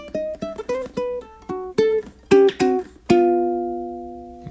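Solo ukulele blues lick in swung eighths, a run of plucked notes walking down chromatically, each attack crisp and close, ending on a ringing chord that decays slowly, no voices.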